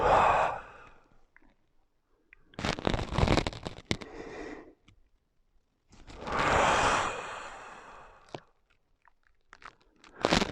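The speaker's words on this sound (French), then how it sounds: "Inspirez et expirez profondément." Deep breaths drawn in and let out during a Pilates mat routine, several long airy inhales and exhales separated by short pauses, close and fairly soft with no talking.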